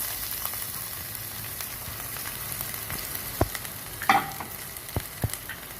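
Onions frying in a tablespoon of hot oil in a pan for chicken roll stuffing, a soft continuous sizzle with scattered spatula taps and a brief louder clatter near the end.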